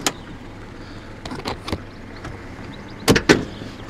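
Electric windows on a Peugeot 208 GT Line with low mileage, heard inside the car as a few short mechanical whirs and clunks, with a louder pair of bursts near the end over a low steady hum.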